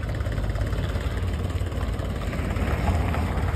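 A farm tractor's engine idles at a steady low throb from nearby on a rural hillside, a continuous even rumble with no speech over it.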